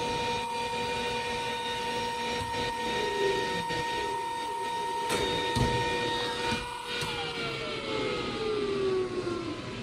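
Exhaust fan of a Glowforge Pro laser cutter runs right after a shark engraving job finishes, a steady moderate whir with tonal hum and a few faint clicks and knocks, no talking.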